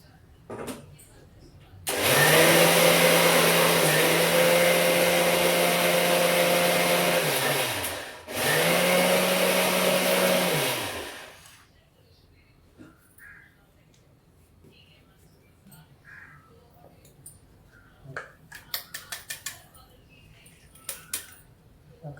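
A mixer grinder whirs loudly while grinding spices for stuffed chilli, running in two long bursts with a short break between them, then stopping and leaving quieter kitchen sounds and voices.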